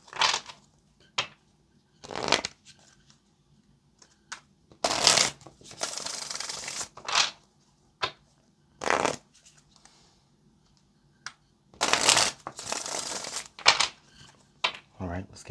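Tarot cards shuffled by hand in repeated bursts, each riffle a crisp papery flutter of a second or so, separated by short pauses and small taps; close and clear, with no talking.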